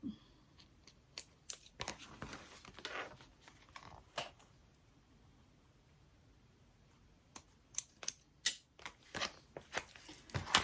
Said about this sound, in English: mark the center by lining up the bottom panels and just giving a little snip